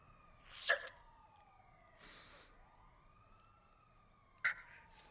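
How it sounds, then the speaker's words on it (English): Police sirens wail, rising and falling in long sweeping tones at moderate distance, with a few sharp bursts cutting in briefly. "Stranded in the desert with their broken-down RV and police sirens approaching"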